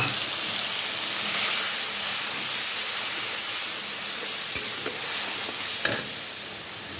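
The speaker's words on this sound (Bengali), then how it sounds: "এবার মশলাটা কষানো হবে" Spice masala sizzling in a pan right after prawns were fried, a dense continuous frying hiss close up with a few sharp stirring clicks and scrapes, no talking.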